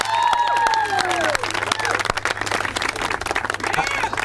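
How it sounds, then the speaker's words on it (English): Outdoor audience clapping for landscape management apprentices at a city lot tree nursery ribbon cutting, a steady spatter of applause lasting several seconds with whistle-like tones and voices mixed in. "Let's give them a quick round of applause."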